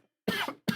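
A person coughs twice close to the microphone, two short harsh bursts separated by a brief gap, with nothing else heard.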